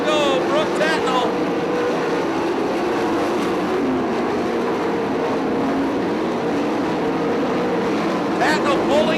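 Sprint cars with 410 engines race at Attica Raceway Park. Their engines drone and whine continuously at a distance, rising and falling as the cars pass. A race announcer talks over the noise.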